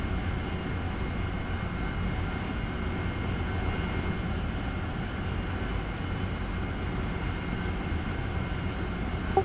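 Steady aircraft engine drone from a flight simulator game, DCS or War Thunder, a continuous broadband roar holding at an even level throughout with no voices over it.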